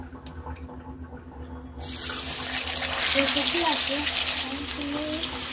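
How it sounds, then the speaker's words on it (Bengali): Marinated chicken pieces go into hot mustard oil, and a quiet room suddenly fills with a loud, close, broadband frying hiss that holds steady afterwards while a voice talks over it. "একটা একটা করে চিকেন এবার তেলের মধ্যে দিয়ে নেব"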